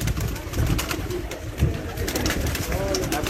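Pigeons coo softly among other bird sounds over a steady, dense background rumble, the calls blending together rather than standing out one by one.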